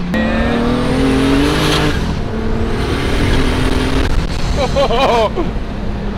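A turbocharged Toyota AE86 accelerates hard on a road, the engine note climbing steadily as boost builds, loud and close from inside the car, with brief turbo whistles and chirps near the end.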